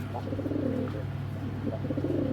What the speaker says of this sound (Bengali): এটাও কিন্তু ইন্ডিয়ান কবুতর, যাদের এই কবুতরটা ভালো লাগবে কালেকশন করবেন